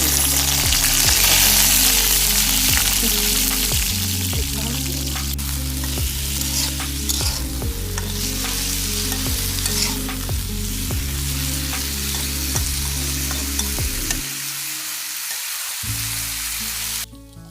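Potatoes fry in mustard oil in a pan, a steady loud sizzle with repeated stirring scrapes and clunks throughout, ending in a brief near-silent pause before the sizzle resumes.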